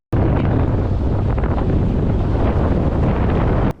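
Loud, constant wind of 12 to 15 knots buffeting the microphone aboard a sailboat in the Bay of Biscay, a dense roar with faint wave wash beneath, steady from start to finish.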